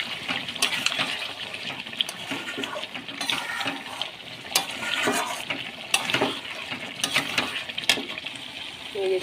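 Chicken kosha cooked down without water, stirred in a pan with repeated scraping strokes and sharp clinks of the spoon over a continuous wet sizzle.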